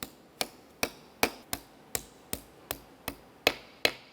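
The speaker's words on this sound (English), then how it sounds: "We'll just go ahead and line this up, and then we'll gently tap it into place." A new AC compressor on a 2001-2005 Ford Explorer Sport Trac is gently tapped onto its dowels, about ten light, evenly spaced knocks close by with a soft ring after each.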